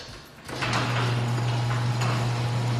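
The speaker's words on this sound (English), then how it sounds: "it's a little bit cold outside, so I'm going to close this door." The door of a beekeeping heat room used for honey harvesting slides shut with a rolling, mechanical rumble. A steady low hum continues afterward, with no talking.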